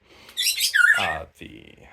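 Pet birds chirp in a heated glass room, bright tweets and calls coming in two bursts, fairly close, with a quieter stretch between.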